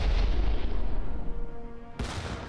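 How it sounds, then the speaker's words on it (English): Artillery cannons fired from a starbase in the space strategy game Stardrive 2 give a dense, continuous booming rumble with no speech, cut by a sudden sharp burst near the end. "Firing artillery cannons."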